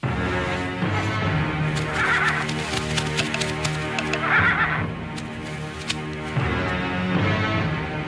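Horses in a classic Indonesian martial-arts film scene, with loud, drawn-out neighs and whinnies rising repeatedly over a continuous rhythmic clatter of hooves, the animals close by.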